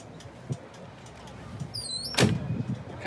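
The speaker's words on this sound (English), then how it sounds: "Nice that door shuts" The door of a restored 1962 Volvo Amazon slams shut with a solid thud near the end, after some quiet shuffling and faint squeaks in a calm space.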